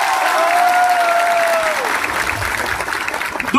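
Audience applause at a political speech event, a steady dense clapping wash that holds loud for several seconds with crowd murmur mixed in.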